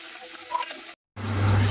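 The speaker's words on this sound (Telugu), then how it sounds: "ఇప్పుడు మిరపకాయలు వేస్తున్నాను." Green chillies drop into hot oil and sizzle loudly up close for a Telugu-style coconut chutney, the frying rising sharply after a brief cut and continuing as a steady crackle.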